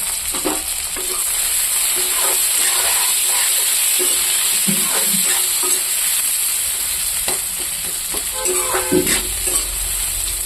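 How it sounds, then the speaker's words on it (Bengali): Onions fry in hot oil with dried red chillies in a pan, a constant close sizzle broken by scraping stirs and clinks of the spatula, with no talking. "পেঁয়াজটাকে আমি অল্প লাল লাল করে ভাজা করব।"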